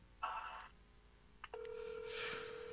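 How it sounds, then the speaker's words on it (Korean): A telephone being dialed at a campus radio station: a short tone burst, a brief blip, then a steady sustained dial or ringback tone that carries to the end, moderately loud with no talking. "네, 오늘 전화 바로 걸어보겠습니다."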